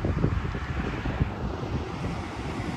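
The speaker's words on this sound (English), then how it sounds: "It's a little windy. I don't know if you could hear the wind." Wind blowing outdoors at a pigeon training release on a windy day, a steady low rushing buffet against the microphone with a few gusty thumps, no voices.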